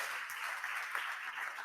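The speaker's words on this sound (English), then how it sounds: "This deserves an applause." Steady applause from a conference audience, a continuous hiss of many hands clapping at moderate volume with no voices over it.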